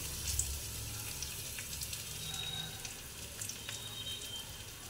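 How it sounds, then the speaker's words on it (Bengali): Papad-wrapped singara samosas frying in hot oil in a kadai, a steady soft sizzle with faint bubbling crackle, continuous and fairly quiet, no talk. "এবার আমি সিঙ্গারাটা এর মধ্যে ছেড়ে দিলাম।"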